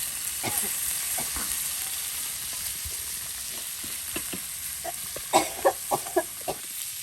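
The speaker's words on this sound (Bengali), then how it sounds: "এই যে মাছ ভাজি হয়ে গেল" Tilapia fish frying in oil in a village kitchen, a steady soft sizzle throughout with a few louder crackles and pops near the end, no talking.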